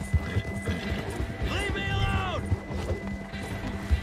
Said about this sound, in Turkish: Biraz daha hızlandırıyorum atı.